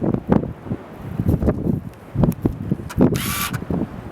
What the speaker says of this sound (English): With the wind and the sand blowing around, it was impossible.